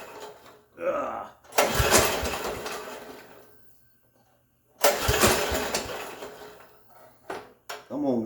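Two start attempts on a Lomart Cheetah diesel mini bike engine, each a loud cranking burst of about two seconds with a quiet pause between them and a short third burst at the end.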